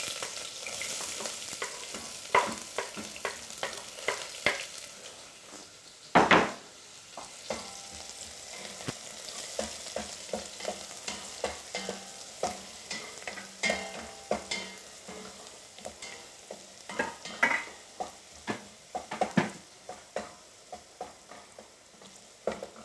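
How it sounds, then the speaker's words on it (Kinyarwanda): Onions fry in hot oil in a pan with a continuous crackling sizzle, broken by frequent sharp scrapes and knocks of a utensil stirring them, and one louder clatter partway through. "Ngiye gushyiramo igitunguru cyanjye."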